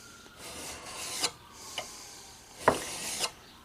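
Short rasping strokes of a file working the steel tang of a fillet knife, four or five separate passes spaced about half a second apart, close and fairly quiet with no voices.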